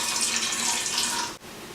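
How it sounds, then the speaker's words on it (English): Water pours steadily from a tap over dry beans in an Instant Pot, a bright continuous splashing rush that cuts off briefly near the end, with no voices. "I'm going to cover them with water."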